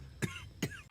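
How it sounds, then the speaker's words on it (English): A man coughs twice in a TV drama scene, two short harsh bursts about half a second apart, close and clear over a quiet room background. "Walt's coughing."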